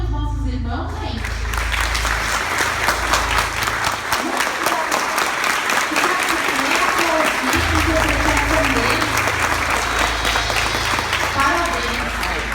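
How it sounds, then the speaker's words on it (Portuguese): A theatre audience applauds a church drama group's play, sustained loud dense clapping from a large crowd, with a voice audible over it and a low hum beneath. "Vamos aplaudir os nossos irmãos"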